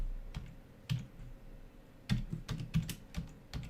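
Keys clatter on a computer keyboard in quick, uneven bursts of clicks, with short pauses between them, close and moderately loud over a faint steady hum.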